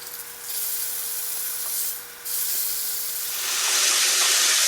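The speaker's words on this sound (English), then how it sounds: "it's got a nice sear on one side, and I love the searing," A ribeye steak sears in a cast iron skillet, giving off a loud, steady sizzling hiss that briefly dips and then swells stronger toward the end.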